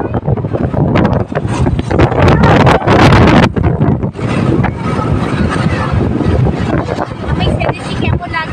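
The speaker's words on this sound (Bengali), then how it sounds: "দেখো হাই রোড দিয়ে যাচ্ছি আমরা বাইক নিয়েছি" Riding a motorbike along a highway, with loud buffeting wind roar and engine drone throughout and a person talking over it.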